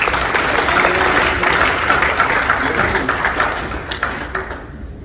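An audience at a talk on personal growth breaks into loud, close applause that stays dense for several seconds, then thins out and fades at the end.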